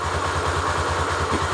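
A Honda Tornado XR 250 motorcycle engine idles with a steady, rapid low thrum and rumble, close and loud, unchanging for its short length, with no voices.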